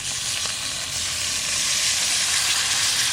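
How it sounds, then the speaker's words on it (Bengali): Water hits a hot pan of egg curry and sizzles fiercely, a loud, continuous bright hiss that stays steady and close for the whole moment, with no talking over it. "এবার জল দেবো"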